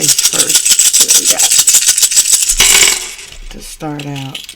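Runes and dice shaken together, a dense rattling clatter of small pieces through the first three seconds, then a brief knock as they are cast, followed by a voice at the end.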